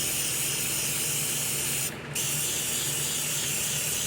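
Green spray paint hisses continuously from an aerosol can, loud and close, with one brief pause midway before the steady spray resumes.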